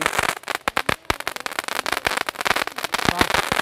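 Sivakasi firecrackers set off for Diwali burst in a rapid, irregular volley of loud, sharp cracks and pops, close and continuous for the whole stretch, with no voices.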